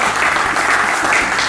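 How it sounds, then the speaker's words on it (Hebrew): A synagogue audience claps together in a steady, dense burst of applause that fills the room evenly from start to finish, with no voices rising above it. "נמחא להם אפילו כפיים"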